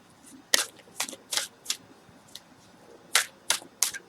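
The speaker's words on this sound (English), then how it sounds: "Let me just shuffle up the cards a little bit." Tarot cards being shuffled by hand in several separate bursts of crisp riffling, close and fairly quiet, with short pauses between them.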